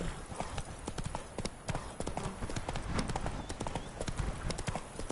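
Hooves of Roach, Geralt's horse in The Witcher 3, clip-clopping in a brisk steady rhythm, close and fairly loud over faint background ambience.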